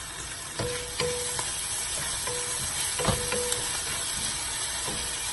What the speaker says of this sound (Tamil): சேர்த்துட்டு பச்சை வாசம் போக சாட்டே பண்ணி எடுத்துக்கலாம்